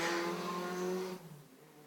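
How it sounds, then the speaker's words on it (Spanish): A motorcycle passes outside an open window, a loud engine drone with a steady pitch that drops and fades quickly as the bike moves away. "Para que escuchéis la moto"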